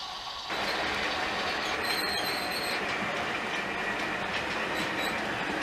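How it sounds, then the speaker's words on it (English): A model railway Class 60 locomotive hauls a cement train through a layout yard, giving a steady close rolling rumble with faint wheel squeal and clicking throughout. "this time we've got the 60 coming through on the cement train"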